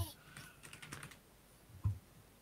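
Typing on a computer keyboard during an online tabletop role-playing game session: quick faint clusters of key clicks, then a pause and a couple of isolated taps, with no one speaking.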